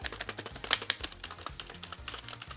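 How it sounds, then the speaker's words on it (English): Fast typing on a cheap wired membrane gaming keyboard from a budget Amazon setup, a close, rapid run of soft, muffled key presses with a dull, mushy quality and no voices. "it's listed as a gaming wired membrane keyboard, so unfortunately it is not a mechanical gaming keyboard"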